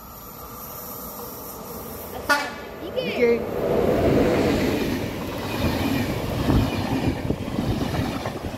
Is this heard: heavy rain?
no